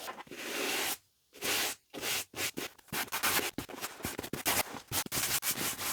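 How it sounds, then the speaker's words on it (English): A firm bristle brush scrubs dirt off suede UGG boots in quick, close, rasping strokes with brief pauses between bursts, loud and alone. "it's imperative to brush off any dirt, dust, or debris"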